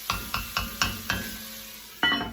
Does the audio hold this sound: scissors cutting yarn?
no